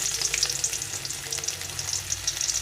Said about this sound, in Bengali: এখন দিয়ে দেবো এক মুঠো রসুন কুচি